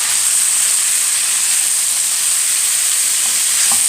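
Chicken for Syrian-style shawarma frying in a pan, a steady, dense sizzle and hiss close up with no talk.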